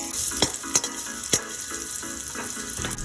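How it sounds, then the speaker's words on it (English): Ginger sautéing in reused oil left over from frying whole fish, a steady close sizzle with a few sharp spatter pops and stirring clinks in the pan, no talking. "Now let's make the sauce. I'm gonna reuse the same oil. Saute the ginger."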